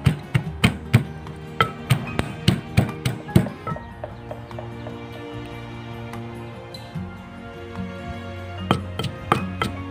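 Fresh chili and garlic pounded in a mortar, a rapid series of sharp thuds that pause midway, then a few more strikes, close and clear with a faint ringing tail, no talking.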